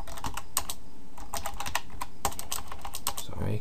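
Rapid typing on a computer keyboard while writing JavaScript code, close clicking keystrokes in quick bursts with short pauses, no talking.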